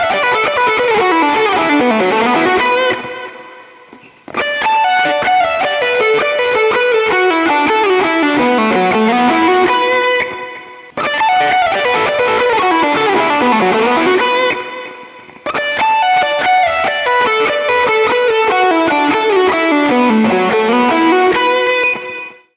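An electric guitar runs through distortion and effects, playing a fast pentatonic lick that descends and climbs back up. The phrase repeats in four loud, close passes, each separated by a short gap, with no talking.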